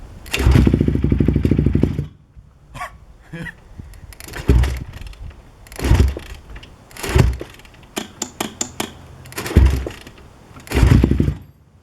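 A Honda TRX450R ATV engine on its first start attempt after rebuilding cranks and fires in several loud bursts, revving up and dropping back between pauses, with a long opening rev and repeated throttle blips.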